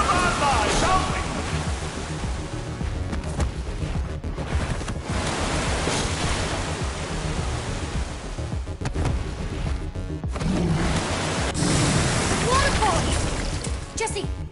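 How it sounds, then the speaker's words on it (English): A waterfall in the video game Minecraft Story Mode rushes as a continuous broadband roar throughout, with a few sharper game effects on top and a voice talking over it. "Waterfall!"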